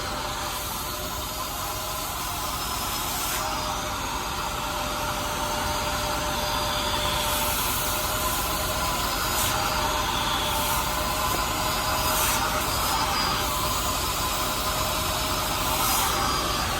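A Bissell SpotClean Pro extracts dirt from a car seat, producing a constant loud, airy suction roar with faint hiss, steady and close throughout.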